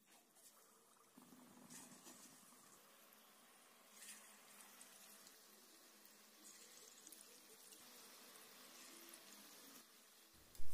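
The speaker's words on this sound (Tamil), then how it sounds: "இந்த எண்ணெய் சூடானதும் நம்ம தேங்காய் துண்டுகளை ஒன்று ஒன்றா இந்த எண்ணெயில் சேர்த்துக்கலாங்க." Coconut pieces deep-frying in hot oil in a kadai for coconut bajji give a steady, close sizzling hiss that starts after a quiet second and holds evenly, with a brief louder crackle at the end and no talk.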